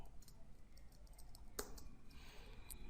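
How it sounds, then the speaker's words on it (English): Computer keyboard typing during a PHP programming session: soft, scattered clicks with one sharper key strike partway through, faint and close, with no talk. "I'm just typing here the 7."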